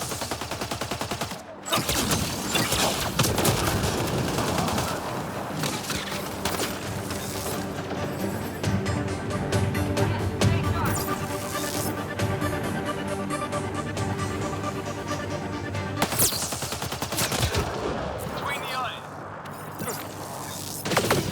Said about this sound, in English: Like Kett machine gun.